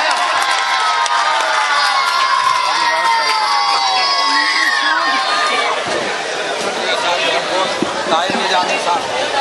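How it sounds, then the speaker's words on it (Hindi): A mushaira audience welcomes a young poet with loud crowd noise, a dense, sustained roar of cheering, whoops and shouting voices that carries on without pause throughout. "जोरदार ताली से इस्तकबाल नहीं करोगे एक नौजवान शायर का?"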